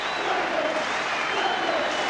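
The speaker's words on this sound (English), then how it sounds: "The crowd salutes and applauds them." A large football crowd at Hull applauds the first division championship win against Barrow, a dense, continuous wash of clapping that holds at an even level throughout with no voices standing out.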